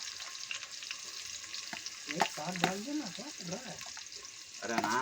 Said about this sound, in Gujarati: હવે જિગ્નેશભાઈ ડુંગળી નાખી રહ્યા છે